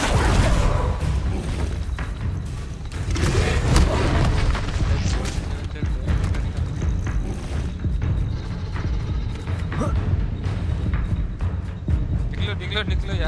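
Bombarda spell blasts in the Hogwarts Legacy video game, a loud, dense rumble of booms and crashing debris lasting throughout, with a voice talking over the game sounds.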